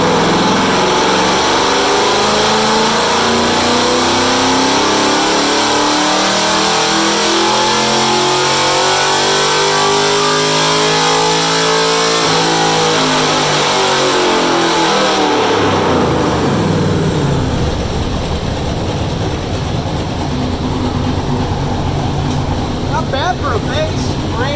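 A car with a stock stall camshaft revs hard on a dyno, its loud engine note sweeping up and back down over several seconds, then settling into a sustained roar.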